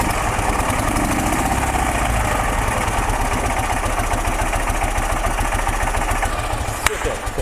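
A 1980s motorcycle engine idles steadily after sitting unused for 30 years, a close, continuous mechanical chug with a fast even rhythm, loud and alone throughout.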